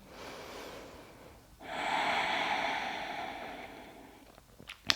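During a grounding yoga flow, a slow, audible breath follows a softer one. First comes a quiet inhale, then a long airy exhale lasting a few seconds and tapering off, close and gentle with no talk.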